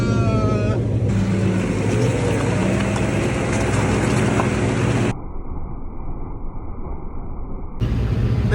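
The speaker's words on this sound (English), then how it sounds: "I'll come down with a digger." A digger engine climbing uphill while carrying a load of stones runs as a loud, steady drone throughout, its tone shifting partway through as the load and gradient change.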